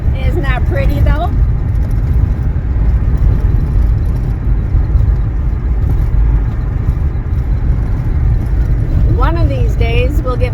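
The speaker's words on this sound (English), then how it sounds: "And yes, it's very loud. And the van's squeaking too." An old van is driving, its loud, steady road and engine rumble running throughout with squeaks from the tired vehicle, while voices talk briefly near the start and end.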